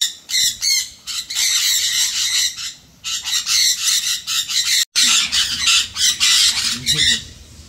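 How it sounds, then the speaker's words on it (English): A bird gives loud, harsh squawks in rapid repeated bursts, close by and nearly continuous, with brief pauses between calls. "That's a bird."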